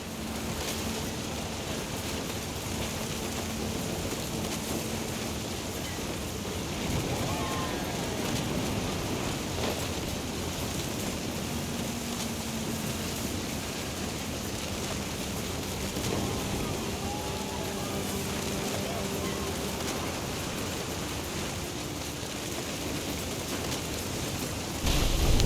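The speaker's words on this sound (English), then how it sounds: "The thunder sounded much too close and full of angry power" Steady rain hisses without a break in a stormy scene from What Remains of Edith Finch, with low rumbling thunder rolling underneath throughout and swelling slightly near the end.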